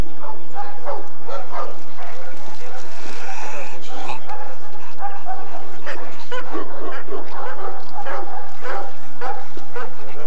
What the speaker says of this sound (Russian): хрипучесть и трудность этой собаки